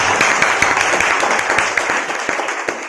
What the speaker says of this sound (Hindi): तो ऐसे प्लेटफॉर्म के लिए एक जोरदार तालियां होनी चाहिए